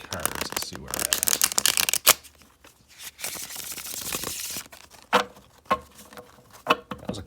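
Tarot cards riffle and flutter in quick rapid bursts, followed by a few separate slaps and shuffles, close and crisp.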